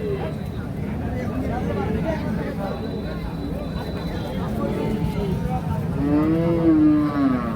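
A Holstein Friesian cow moos near the end at a cattle market, a low drawn-out call rising over the busy murmur of a crowd talking in the background.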